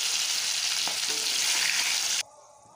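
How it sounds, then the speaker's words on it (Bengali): Onion and garlic fry in hot oil in a home kitchen, a loud, dense hiss of sizzling with a faint clink of stirring, then the sizzle suddenly drops away near the end. "এর মধ্যে আমি পেঁয়াজটাও ভেজে নিচ্ছি আর রসুনটাকেও ভেজে নিচ্ছি।"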